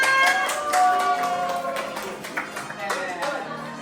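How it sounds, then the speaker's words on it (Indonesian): Classroom applause for a student group during a teaching session, scattered hands clapping in a light, uneven patter close by that thins out over a few seconds, with faint voices and tonal sounds mixed in. "Beri tepuk tangan untuk kelompok 3"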